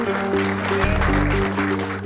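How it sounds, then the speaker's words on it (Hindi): Audience clapping at a school dance competition, a steady wash of applause running the whole stretch with a low musical hum beneath it. "मैं आप सब लोगों की तालियों का मतलब समझ गया हूं"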